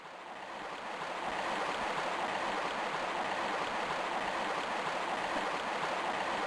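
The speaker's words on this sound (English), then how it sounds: "You can hear water." Steady flowing water ambience from the Tomb Raider Remastered video game, a continuous broad rushing wash that rises in the first second and then holds evenly at a moderate level, with no music or voices.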